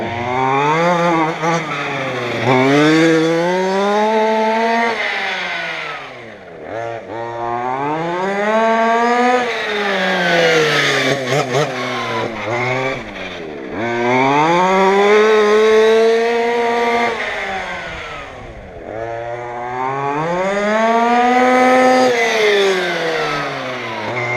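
A Redcat Rampage MT RC monster truck with a belt drive conversion whining up and down in repeated long rising and falling revs, loud and close, with no talk.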